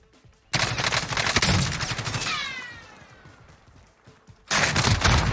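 Dense gunfire and explosive blasts in the Warzone battle royale shooter, with a rocket launcher firing among them; loud bursts open and close the stretch, with a fading, whistling tail in between.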